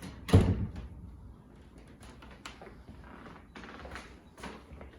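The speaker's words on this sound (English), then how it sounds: "And the sliding doors to the deck." A sliding door onto a deck in a house thuds open or shut once near the start, followed by quieter rolling and handling noises in a room.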